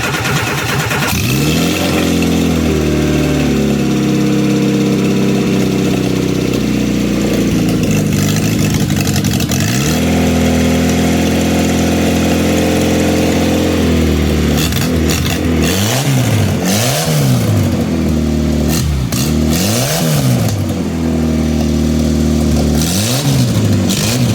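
A cheap engine salvaged from scrap metal starts and revs repeatedly, loud and close, with rising and falling throttle sweeps and a steady idle between bursts.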